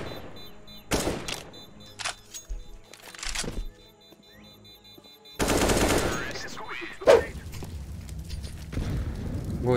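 Bursts of rapid machine gun fire in a first-person shooter game, several separated volleys with short pauses, loud and close, with a sharp crack near the end.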